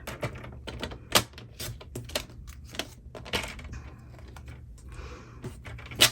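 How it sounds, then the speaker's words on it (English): A paper trimmer slices through black paper, a run of crisp clicks and sliding cuts with a couple of sharper snaps, close up and alone without talk. "I'll bring my paper trimmer in and just trim this so it's nice and straight."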